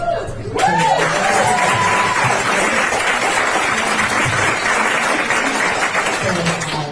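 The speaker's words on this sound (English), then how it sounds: "Thank you for the applause" A crowd at a political gathering on Medicaid cuts breaks into sustained applause with some cheering, a brief voice and crowd murmur showing at the start before the clapping fills the room evenly.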